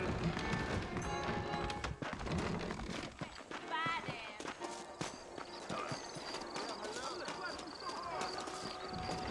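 Saddled horses' hooves clip-clop steadily in Red Dead Redemption, a moderately loud rhythmic trot mixed under game music and a voice speaking.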